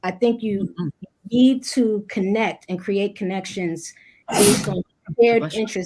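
A sneeze bursts out at about four seconds amid a group discussion, loud and brief, with people talking steadily before and after it.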